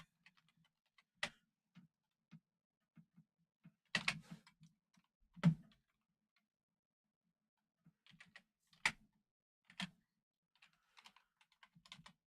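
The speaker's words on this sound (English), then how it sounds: "Now we're going to have to spend time on the show typing crap into Google." Keys on a computer keyboard clack in short irregular bursts, isolated taps and quick clusters with quiet gaps between, close and fairly soft in a still room.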